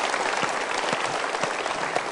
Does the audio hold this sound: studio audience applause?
yes